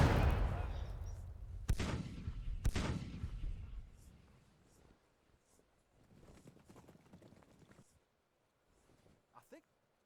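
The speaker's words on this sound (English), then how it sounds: "I don't think my artillery is having any effect right now." Artillery fire on a Civil War battlefield in Grand Tactician: The Civil War, with heavy booming blasts up close at the start, then sharp reports and a scattered distant rumble of guns that fades.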